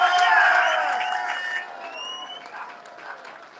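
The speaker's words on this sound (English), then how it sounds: "And I would ask you all to give a massive round of applause for Ben Habib." A rally crowd opposing the Northern Ireland Protocol breaks into loud applause and cheering, strongest at the start and then slowly fading to a softer clatter of clapping.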